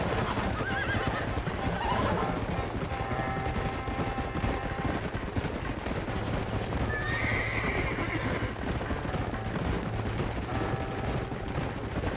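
Horses in the video game Red Dead Redemption clip-clop at a steady gallop with a whinny rising partway through, set against a dense, continuous wash of background noise.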